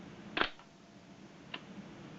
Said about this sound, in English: You're shooting a focal plane body, it just sounds like this.